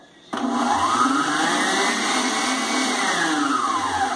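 An electric mixer whirs through sponge cake batter, a loud, steady motor drone that starts abruptly and holds with a slowly rising and falling pitch.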